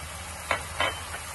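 Spices dropped into a hot pan for lehsuni methi aloo give a few brief, soft sizzling bursts, two clearer ones and a fainter third, over a low steady background hum.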